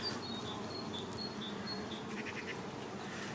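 Honeybees buzzing around an open hive during a spring inspection; a steady soft drone of many wings with occasional louder passes of single bees close by, no voices.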